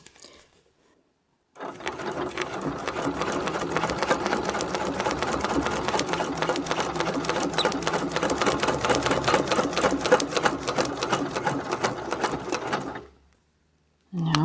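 An embroidery sewing machine stitches a wreath design in a long, steady run of rapid mechanical clatter lasting about eleven seconds, starting and stopping abruptly with near silence on either side.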